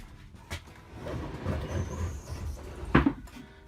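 A closet door doubling as a bedroom door in a small tiny house moves with a soft rumble, then gives a single brief thump near the end, heard close against low background noise.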